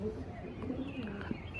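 Big Saharanpuri Nakta pigeons at a Howrah pigeon sale cooing softly and continuously under steady background noise and some voices.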